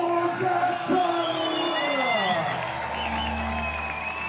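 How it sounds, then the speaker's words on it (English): A crowd at the award ceremony for world champion cyclist Tadej Pogačar after a gravel road race in Siena, cheering and applauding in a broad roar, with whoops and raised voices that fade into a lower hum. "Thunderous applause for a mighty champion."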